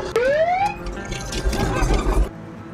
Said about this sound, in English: Sirens all still go